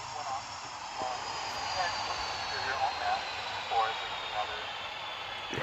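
An airplane's jet engine in an aircraft sandbox video game roars as a steady, continuous drone throughout, with a voice talking over it intermittently.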